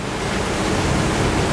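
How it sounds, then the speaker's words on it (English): A 2021 Nimbus T9X motorboat hull cuts through ocean waves, giving a loud, steady broadband rush of water and wind with no voices. "But she's parting her way through the waves"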